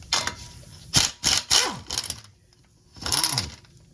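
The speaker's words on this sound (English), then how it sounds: "Yeah, I know I'm using a chrome socket." A ratchet turning a chrome socket during a Jeep Wrangler clutch job, several short bursts of clicking with pauses between, fairly close and without speech.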